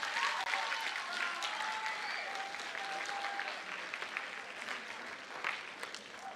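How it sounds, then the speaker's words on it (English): Audience applause at a 7th grade school awards ceremony, steady broadband clapping from a crowd lasting several seconds, moderately distant and fading slightly toward the end. "Let's give these people a round of applause."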